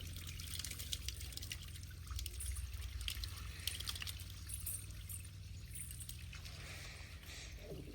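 Water sprayed from a hose onto the walls of a house under construction, a steady rushing, pouring wash that runs unbroken and fairly close throughout, with a low background hum.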